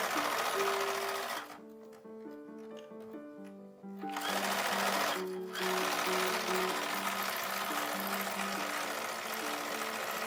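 Sewing machine stitching a skirt pocket in historical dressmaking, a steady close mechanical whir and rapid needle chatter that stops briefly twice and then resumes, with no talking.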